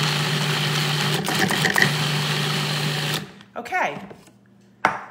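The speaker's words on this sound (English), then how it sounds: "Processor is on, and I'm just gonna stream it through the top." A food processor whirs steadily while pesto is made from leftover herbs and oil is streamed in, a close, dense motor drone that cuts off after about three seconds, followed by brief handling clatter and a short spoken word.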